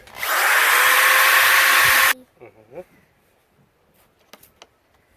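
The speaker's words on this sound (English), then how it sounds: "I'm going to do it with my wire brush." A wire brush spun on a power drill scours rust off an engine, a loud steady whir for about two seconds that stops abruptly, followed by light handling clatter and faint voices.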